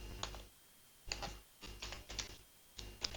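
Bursts of quick clicking on a computer keyboard while code is typed, four or five short clusters of keystrokes separated by brief pauses, close and fairly soft, with no voice.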